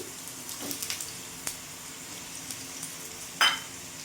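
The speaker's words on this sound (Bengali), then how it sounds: "আমি এখানে একটা আলু দিয়েছি তোমরা কম বেশি করে দিতে পারবে কিছুক্ষণ নাড়াচাড়া করে একটু ভাজা ভাজা করে নেব" Diced potatoes frying over medium heat in oil tempered with dried red chillies, giving a faint, steady crackle with a few soft stirring scrapes and one brief louder clatter near the end.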